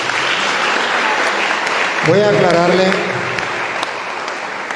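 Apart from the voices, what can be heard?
congregation applause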